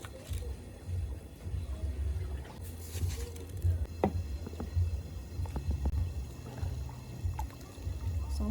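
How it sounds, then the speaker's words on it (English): Rice stirred into a rich tomato stew base in a large pot for party jollof rice, soft wet squelching and scraping with a low steady background rumble, no talking. "So I'm going to stir in the rice."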